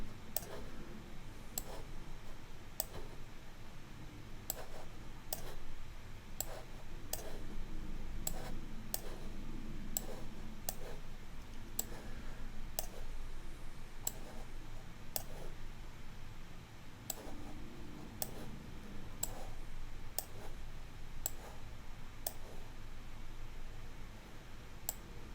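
Deck of game cards being shuffled during an Arkham Horror card game session, heard as a steady series of sharp, evenly spaced clicks over about 25 seconds against a soft, noisy background.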